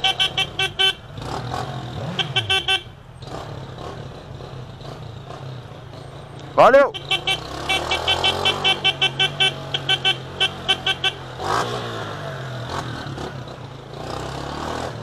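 A motorcycle engine rumbles while accelerating through busy traffic, with a sharp horn blast midway followed by a rapid rhythmic pulsing, and a brief spoken word is heard.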